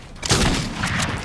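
A shotgun blast in the console battle royale game Fortnite cracks loudly, followed by a dense wash of further gunfire and game noise, with someone speaking Spanish underneath.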